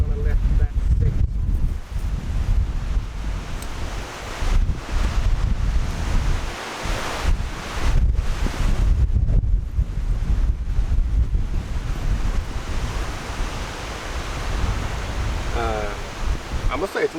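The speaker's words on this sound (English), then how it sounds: "I must say it's an exciting wind." Strong wind gusts roar across the microphone outdoors while an omelette cooks on a Trangia stove in stormy weather. The gusts are loud and come in waves, rising and easing throughout with a brief voice near the end.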